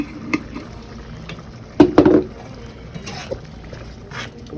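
Spanish olives and peppers stirred into rice and beans in a pot, with a few wet, squelching spoon strokes and clinks against the pot over a faint simmer.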